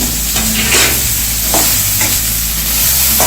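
Carrots, cabbage and capsicum stir-frying in a pan for vegetable fried rice, a loud continuous sizzle close up, with soft scraping pulses from stirring and a low hum underneath, no voices.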